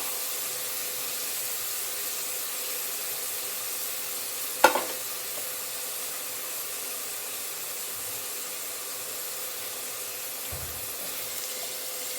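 Curry leaves and green chillies frying in a pan, a steady soft sizzle close by, with one sharp clatter of a utensil partway through and a faint low knock near the end; no talk.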